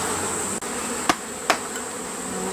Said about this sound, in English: Yeah, they're quiet bees.